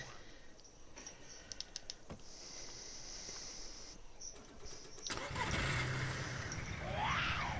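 A car engine in the video game DayZ turns over and starts, with faint clicks beforehand, then a louder running engine rising in the last seconds.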